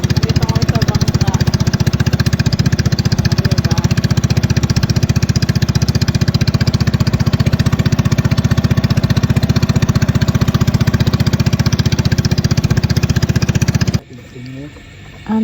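Small motorboat engine running steadily and loud on a rainy river crossing, a constant low droning chug that fills the clip before cutting off abruptly near the end.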